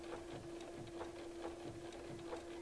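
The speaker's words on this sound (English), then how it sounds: "So I'm going to stitch to that point and stop." A sewing machine stitches fabric applique in a steady rhythm of quick, fairly quiet needle strokes running continuously, with a constant motor whine underneath.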